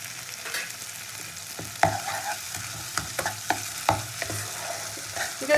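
Onion and tomato frying with ginger paste in a pan, a steady low sizzle broken by scattered stirring scrapes and taps of a spoon against the pot.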